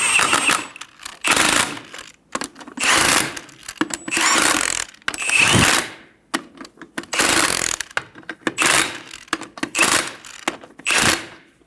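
Lug nuts on a 2000-2007 Ford Focus front wheel being run down with a rapid impact or ratchet tool, loud close bursts of buzzing rattle repeated about eight times with short pauses between.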